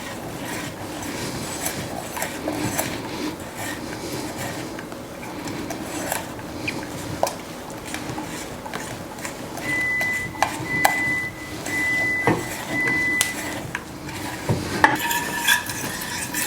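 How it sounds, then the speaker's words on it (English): A whisk scrapes and clicks steadily against a metal saucepan, mixing a cocoa powder mixture close up, with a few brief high tones and light clanks, no voices. "use whisk right here, because we need to mix this cocoa powder and avoid any clumps"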